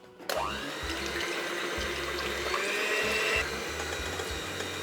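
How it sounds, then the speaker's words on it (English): Egg whites whisked with an electric whisk, a steady loud whirring drone that starts abruptly and runs continuously with slight pitch shifts, no voices. "I'll start by whisking the egg whites first."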